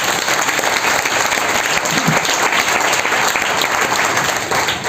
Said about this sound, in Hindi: एक बार तालियां बजा दो माया जी की।